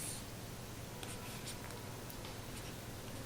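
Chalk or marker scratches faintly across a board as a formula is written out, soft irregular strokes under a steady background hiss, with no talk.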